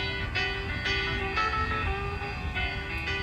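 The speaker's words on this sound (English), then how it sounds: "I isolated the guitar and the piano." Guitar and piano play together, with chords struck every half second or so and clear sustained notes ringing out, no drums or vocals.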